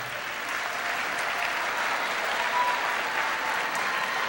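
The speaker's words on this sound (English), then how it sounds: "So my next chapter graduates, round of applause." A large commencement crowd applauds graduates, a dense, sustained wash of clapping that stays even and full from start to finish, with faint crowd murmur beneath.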